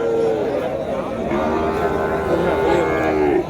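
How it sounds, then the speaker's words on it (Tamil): Cattle moo at a busy livestock market, long low calls from several animals nearby, with someone talking over them and faint crowd chatter in the background. "ஸோ சுற்றி பாருங்கள் எவ்வளோ மாடு நிற்கிது."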